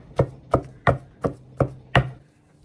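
Six steady thuds of a pestle pounding fermented soybean paste in a mortar, traditional Tai Lue thua nao sheets being made, each strike sharp and close with an even rhythm and no talk.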